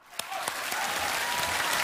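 A studio audience at a comedy talk-show sketch breaks into loud, sustained applause that swells and holds dense and even throughout.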